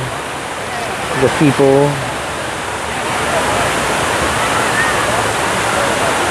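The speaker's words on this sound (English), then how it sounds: "Here's all the cascading, the water," Cascading water at the Fort Worth Water Gardens, a steady broad rushing roar throughout, with someone speaking briefly over it early on.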